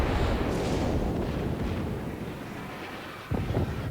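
The Yamato battleship's main guns roar in World of Warships, a heavy rumbling boom that slowly fades, followed by a sharper second blast near the end over a windy low background.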